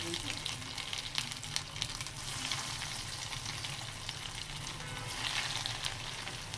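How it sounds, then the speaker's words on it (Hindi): Vegetable bread rolls coated in breadcrumbs fry in hot oil over a low flame, a dense steady sizzle close by with occasional small pops. "अब हमने एक एक उठा के फ्राई करना है। ऑयल हमारा पहले से गर्म है।"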